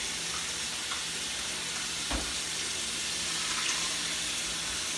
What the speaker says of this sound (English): So I would normally wash the rice off and then drain it.